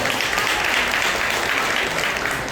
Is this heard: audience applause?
yes